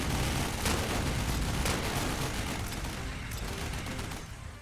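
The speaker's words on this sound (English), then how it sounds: "Completely murdered by all of our machine guns and basic infantry." Dense, continuous machine-gun fire from a video game battle against infantry and flyers, a loud, unbroken rattle of overlapping bursts that fills the whole stretch with no pause.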